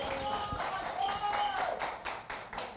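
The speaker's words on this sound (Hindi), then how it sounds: "एक बार जोरदार तालियां थग के लिए।" Crowd at an esports award ceremony applauding a co-founder called onto the stage, a sustained patter of clapping with some distinct claps standing out, heard alongside a voice on a public address system.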